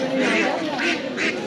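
Large ducks at a border village market quack three times in a row, close and loud, with a hum of crowd noise behind.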